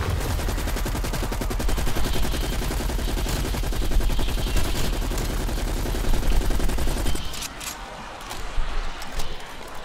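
Rapid automatic gunfire in Call of Duty Black Ops Cold War, dense continuous bursts for several seconds that stop abruptly and give way to a few scattered shots, loud and close.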